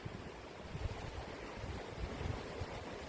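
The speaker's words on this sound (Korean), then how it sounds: "파도 소리도 너무 시원하고" Ocean waves roll onto the shore during a seaside drive, a steady broad wash of surf with soft surging swells and sea wind, with no talk over it.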